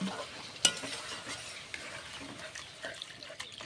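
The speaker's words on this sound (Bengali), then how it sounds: "দিয়ে একটু ভালো করে নাড়াচাড়া করে দেব" A spoon stirs chicken and cauliflower curry in a pan just after water is added, with soft, irregular scraping strokes and a single sharp clink over a low, wet sizzle.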